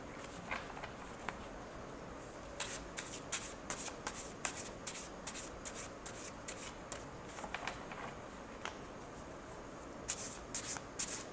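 Tarot cards being shuffled by hand, a run of crisp riffling bursts and soft card slaps repeating in irregular clusters over a quiet background, with no talking.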